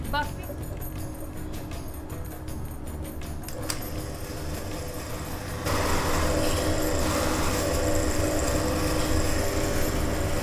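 A motorized buffing wheel loaded with buffing compound runs against a dry wooden carving with an intricate ivory-style design, giving a steady close mechanical whir that grows louder and rougher about halfway through.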